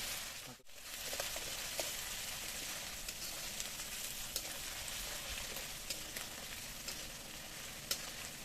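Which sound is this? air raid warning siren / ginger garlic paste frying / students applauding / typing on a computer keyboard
ginger garlic paste frying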